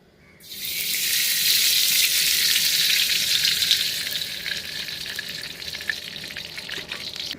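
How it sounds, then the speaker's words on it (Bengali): Mustard oil heating in a pan for ghugni bursts into a loud, bright sizzle about half a second in, then settles into a steady hiss that slowly eases. "ঘুগনির জন্য দিয়ে দিচ্ছি সর্ষের তেল"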